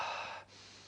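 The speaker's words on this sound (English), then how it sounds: "And really start breathing into your diaphragm." One deep, airy exhale sounds up close and fairly soft during a breathing practice, fading out after about half a second into quiet room tone.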